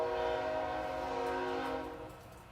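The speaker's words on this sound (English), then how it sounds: "plus a train whistle" A train whistle sound effect, a loud, steady, horn-like tone that holds for about two seconds and then begins to fade, alone with no talking.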